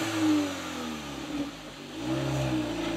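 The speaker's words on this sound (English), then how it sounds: "that's the VW Polo GTI facelifted version here with Thomas and Autogefuehl" A 2022 VW Polo GTI facelift pulls away under throttle, its engine note swelling and revving steadily across the clip, close and fairly loud with no talking.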